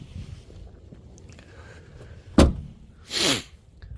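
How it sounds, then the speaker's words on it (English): A 2019 Honda Civic EX hatchback door closes with a sharp, solid thud, then a softer whooshing latch sound follows about a second later, both near and clear over quiet background. "I like the way all the doors open and close."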